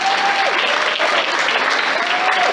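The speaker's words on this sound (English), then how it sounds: "Please give a round of applause to the former Department of Labor's U.S." An awards gala crowd breaks into sustained applause, a broad wash of clapping that stays full and even from start to finish, with a voice faintly heard beneath it.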